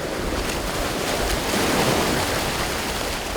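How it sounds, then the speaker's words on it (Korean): Sea waves surge against a rocky island shore at low tide during seaweed harvesting, a loud, steady rush of surf with no breaks and no voices. "썰물이라고는 하지만 파도는 여전히 매서운데요"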